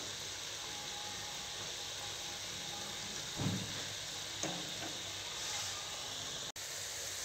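Maida biscuits frying in hot oil give off a faint, steady hiss and sizzle, with a few soft pops and bubbles breaking through.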